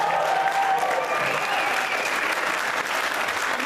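A debate audience in Anchorage, Alaska gives sustained, dense applause for three senatorial candidates, loud and steady throughout with no break.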